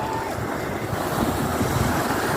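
Sea waves wash steadily onto the shore at Malaueg, a continuous rushing surf mixed with wind buffeting the microphone, with no pauses.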